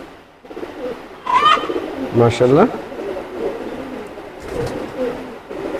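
Teddy pigeons cooing close up, including a female Teddy pigeon, a few distinct throaty coos and warbles in short bursts, with someone talking between and over them.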